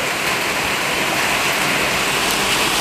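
Heavy rain pours down in a steady, dense hiss, loud and unbroken throughout with no voices.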